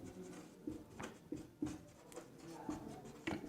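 Pen writing on paper during a maths lesson on heights and distances, a close run of scratchy strokes and taps in an uneven rhythm, fairly soft.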